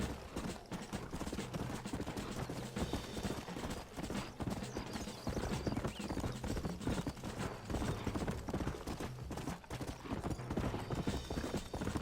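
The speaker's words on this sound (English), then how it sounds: "Give me my fast horse here." Hooves pound rapidly in a galloping rhythm, loud and near, a steady stream of clip-clop beats throughout.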